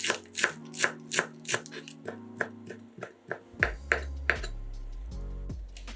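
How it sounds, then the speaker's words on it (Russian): A knife chops dill and green onion rapidly on a cutting board, sharp regular strikes in a quick steady rhythm, close by, with a low hum and faint background sounds underneath. "Пучок укропа и зеленого лука нарезаем небольшими кусочками."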